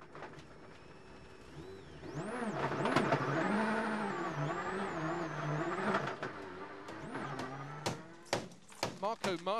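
A Subaru WRC rally car roars through a Rally Sweden 2001 stage, its throaty exhaust swelling as it accelerates past, then fading before sharp crackling pops and bursts near the end.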